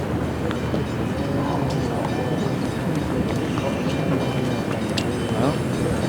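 A goods train rolls past a lawn bowls club at Moama, New South Wales, a steady broad rumble filling the whole stretch with faint squeals on top, while a commentator's voice carries on beneath it.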